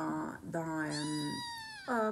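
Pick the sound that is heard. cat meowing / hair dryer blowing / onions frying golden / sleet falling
cat meowing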